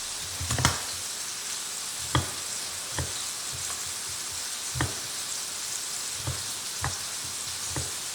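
Food sizzles steadily in a frying pan while browning on its second side before going into the oven, a soft continuous crackle broken by several sharp clinks of a utensil against the pan, with no talking.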